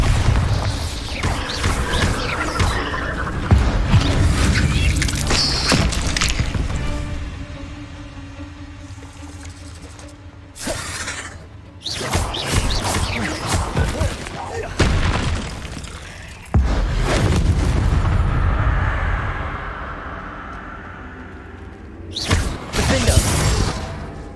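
Bombarda and Confringo spell explosions in Hogwarts Legacy: a run of loud, close booms and bursts with whooshing blasts and rumbling debris, broken by brief quiet gaps over about twenty seconds.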